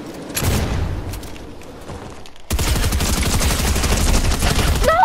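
Rapid bursts of charge SMG fire in Fortnite, loud and close, with a dense stretch of shots in the first half, a brief gap, then a sustained volley through the second half.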